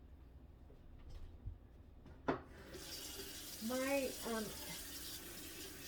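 Water runs from a loose kitchen faucet into the sink, a steady hiss that starts after a few clicks and clatters and continues throughout, with a voice speaking briefly over it.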